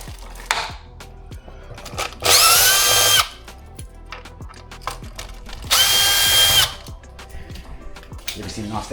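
An offset drill whirs in two loud bursts of about a second each, close up, with clicks, taps and handling noises around them.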